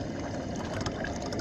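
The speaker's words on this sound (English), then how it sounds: "Pouring the Brazilwood that was soaked" Brazilwood liquid, soaked overnight in vinegar, is poured into a pot: a steady, dense rushing splash of liquid that runs unbroken throughout at a moderate level.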